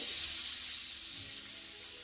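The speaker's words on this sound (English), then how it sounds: "as soon as I put it, that sizzle is just coming." A chicken breast sizzles in a heated pan, a close, bright, steady frying hiss with faint low bubbling underneath.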